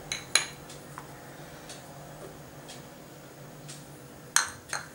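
Utensils clinking against a bowl while flour, corn flour and salt are combined for Manchurian balls, a few sharp clinks at the start and near the end over quiet background.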